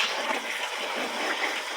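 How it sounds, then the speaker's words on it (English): A garden hose sprays water to rinse soap off an item, a steady close hiss and splash that holds level throughout with no talk. "So now I'm just gonna use the hose and rinse it off."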